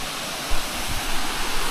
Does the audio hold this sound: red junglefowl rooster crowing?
no